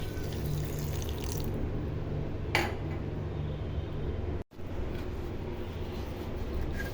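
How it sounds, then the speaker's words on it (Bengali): Water poured into a blender jar while making prawn malaikari in a home kitchen: a steady wash of pouring and running water throughout, with a brief clink near the middle and a short gap just after. "জল দিয়ে দিব।"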